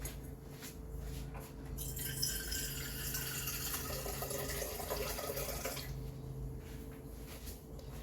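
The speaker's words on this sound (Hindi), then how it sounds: "और मैंने 1 ही गिलास इसमें पानी डाला." Water pours steadily into a pressure cooker holding milk for rice pudding for a few seconds, a bright splashing stream that starts abruptly and stops, over a low background hum.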